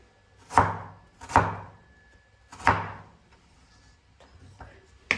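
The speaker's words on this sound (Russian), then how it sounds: "Нравится мне вот этим вот волнорезом резать." Three sharp, evenly spaced crinkle-cut knife chops on a board, then a few softer taps and a final quick strike; close and clear with no talking.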